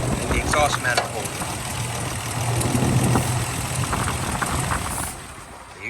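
Toyota FJ60 engine idling roughly with an uneven low throb before stalling and going quiet near the end, heard close up in a workshop setting with someone talking over it.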